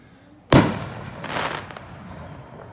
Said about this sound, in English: They shoot up fireworks.